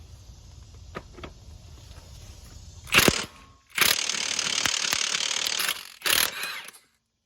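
A Milwaukee M18 cordless impact tool with a six-point socket hammers at the crank pulley bolt of a 2010-2013 Acura ZDX: a short rattling burst, then a longer two-second run of rapid impacts, then a final brief burst, close up with no talk.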